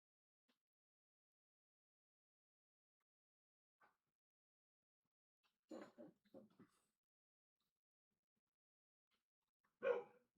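A dog barks indoors in a few brief, sharp bursts: a short cluster of three barks midway and a single louder bark near the end, separated by near-silence.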